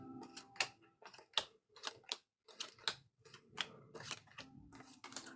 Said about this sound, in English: I just want to make sure that this was thoroughly shuffled.